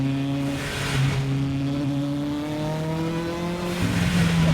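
Tuned Lotus weighing 2,150 pounds with a 1.8 liter engine making over 700 horsepower, revving loudly and steadily with rising engine pitch, close and sustained with no talk.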